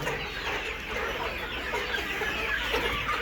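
Seventy-five-day-old layer hens, beak-trimmed and split into separate pens, cluck and murmur together in a dense, continuous chorus close by.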